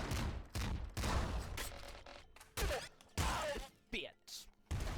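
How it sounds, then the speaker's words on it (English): Super Mega Slugger shots fire in the video game Nuclear Throne. Several heavy booming blasts come in uneven bursts with short gaps between them. A voice speaks at times over the shots. "these guys take 5 Super Mega Slugger shots"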